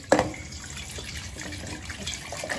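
Tap water runs steadily into a sink while a rohu fish is washed under it, with a sharp splash at the start and soft trickling and sloshing throughout, close and moderately loud.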